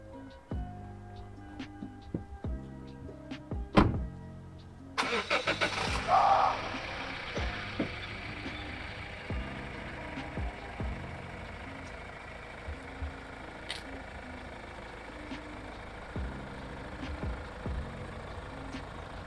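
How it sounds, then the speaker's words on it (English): A 2015 Mazda Atenza engine starts up with a sharp burst of noise, then settles into a smooth, steady idle and drive hum with occasional clicks, heard from inside the car. "Let's see how this car feels and drives on the road"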